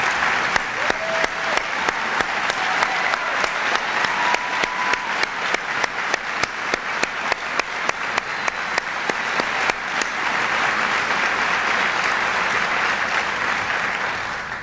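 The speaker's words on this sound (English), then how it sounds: "may I ask you to join me in a round of applause for these faculty members." Audience applause for faculty members at a Johns Hopkins University School of Medicine convocation: sustained clapping from a large crowd, with a rhythmic synchronized clap pulsing through the first ten seconds before dissolving into a dense, even roar.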